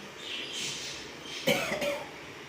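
A short cough, two quick close bursts, rising out of a broad hissing background.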